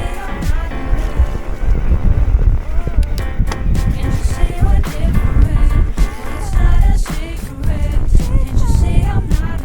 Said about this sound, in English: Get out of this wind.